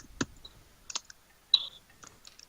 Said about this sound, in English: Hold on, I'm still busy typing.